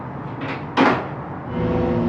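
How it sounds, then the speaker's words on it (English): A mirror shifts suddenly with a single sharp knock or scrape about a third of the way in, standing out over a steady low room hum. "discovered this mirror moving in a very quick and sudden deliberate motion"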